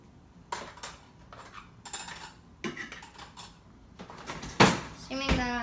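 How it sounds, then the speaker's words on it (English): Silverware clatters and clinks during household chores, several sharp metallic bursts spread across the moment, close and fairly loud, with one louder crash near the end. "Assuming that I'm already done with the silverware"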